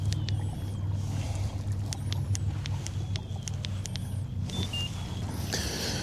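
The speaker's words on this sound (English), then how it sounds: "So the trolling motor works." An electric trolling motor on a bass fishing kayak runs with a steady low hum on the water, with faint whirring and light splashes over it.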